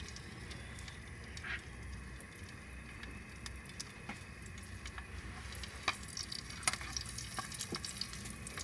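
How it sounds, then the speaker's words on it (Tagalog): Garlic frying in a hot pan gives a soft, steady sizzle with occasional stirring scrapes and small pops, close and fairly quiet, with no talk. "lagay natin yung bawang."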